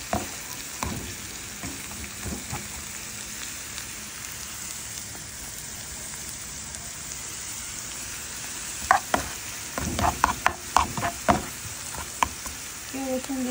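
Oil for a tempering sizzles and spits in a pan, with onion and dried chilli added, for a lentil and celery leaf curry; a low frying hiss runs throughout, broken by clattering stirs and a burst of crackling near the end.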